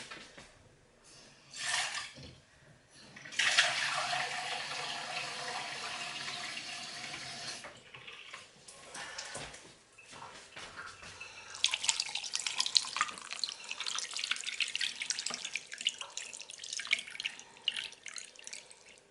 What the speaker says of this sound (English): all I put on top of that is cold water